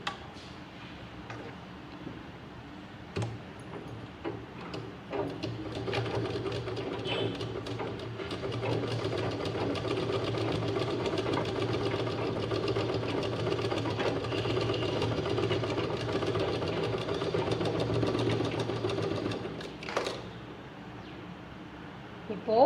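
A sewing machine stitching a fabric pouch runs in a steady, fast mechanical whir with ticking needle rhythm for most of the clip, starting and stopping with a few clicks, fairly close and moderately loud.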